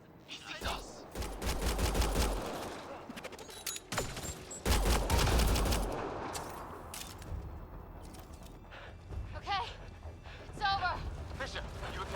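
Heavy rapid gunfire and explosive bursts in the video game Mass Effect Andromeda, loud and sustained in waves, with voices talking over the combat.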